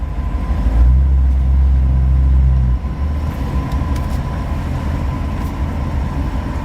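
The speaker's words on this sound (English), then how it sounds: "This car likes to run when it's cooler" A car's engine hums low and steady while driving, louder in the first few seconds, then settling into a rougher, quieter rumble with no talk.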